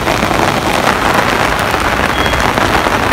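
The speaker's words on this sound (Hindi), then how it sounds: "बारिश ही बारिश है" Steady rain falls in Nainital, a dense, even wash of patter with light wind noise, constant and fairly loud throughout with no pauses.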